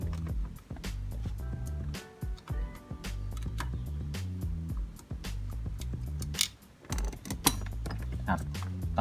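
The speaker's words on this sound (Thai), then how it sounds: "ตัวที่สามอยู่ตรงนี้ครับ ตรงนี้ ต้องใช้ไขควงสั้นนิดหนึ่งครับ" A short screwdriver works on screws in a Honda Jazz steering column, giving close, irregular clicks, ticks and metallic creaks with brief scraping, continuous and fairly busy with no talking.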